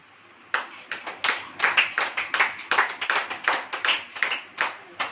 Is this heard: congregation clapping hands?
yes